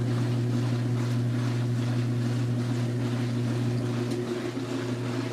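An LG ThinQ washing machine on its spin rinse cycle gives a steady, even low drone with a soft whooshing wash of noise, constant and moderately loud throughout.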